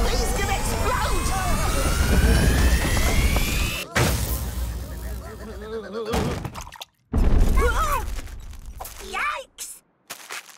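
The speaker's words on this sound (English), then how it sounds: "The TV's gonna explode!" A cartoon television blows apart in a chaotic burst: a rising electronic whine gives way to a crash and shattering, followed by scattered noisy bursts and excited cartoon voices over the din.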